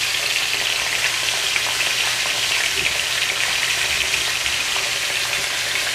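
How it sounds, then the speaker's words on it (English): Oxtail browns in a pot of hot oil with a loud, dense, continuous sizzle and crackle, close and steady throughout. "you're just gonna brown the oxtail a little bit on each side"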